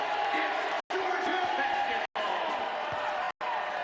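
Basketball arena crowd at a Florida at Georgia college game reacting to an air ball, a steady broad roar of voices and cheering with a few brief dropouts, heard alone without close talk.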